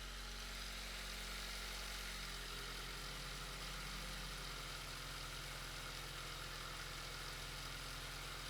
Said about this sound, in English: just let me turn on the fan while the engine's running